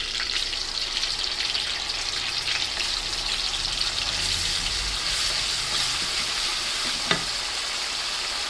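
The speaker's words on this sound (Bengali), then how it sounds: "মশলাটা ভাজা হয়ে গেছে" Onion and garlic paste with spices fries in a pan for a fish curry with cauliflower, beans and potato, giving a steady, close, hissing sizzle throughout, with one sharp clink near the end.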